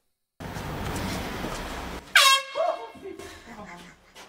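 A loud, sudden blast of an air horn in a prank cuts through background noise, followed by a startled voice and some talking.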